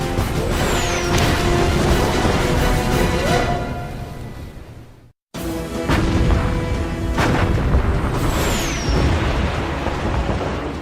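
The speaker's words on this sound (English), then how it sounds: "the German battleship Bismarck and heavy cruiser Prince Eugen, exchange fire with the pride of the British Navy, HMS Hood and Prince of Wales" Naval gunfire as the battleships Bismarck and HMS Hood exchange salvos in 1941, loud repeated heavy booms with rumbling reverberation and whistling shells, a dramatic battle soundscape broken by a brief silent gap.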